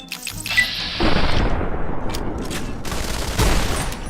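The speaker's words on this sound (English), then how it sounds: "Try to shoot that weapon out of his hand." Gunfire in the video game Fallout New Vegas: a burst of loud, rapid shots rings out close by, continuing as a dense volley for several seconds after a brief opening.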